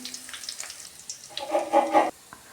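Spices tempering in hot oil for a sweet potato uppukari crackle into a brief, fairly faint sizzle that swells for under a second, then cuts off sharply, with no talking.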